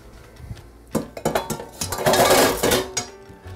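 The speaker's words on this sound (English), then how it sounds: "we're gonna drop in our green beans" Green beans dropped into a bowl of salad dressing land with a loud clattering, clinking rush against the bowl, building into a dense, sustained tumble before tapering off, with no voices.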